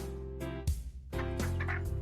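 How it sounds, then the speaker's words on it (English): Randomly chosen chicken cluck effect from a Godot farming game, a couple of short fowl-like squawks layered over steady background music, no speech present. "And then a third chicken sound from the randomizer."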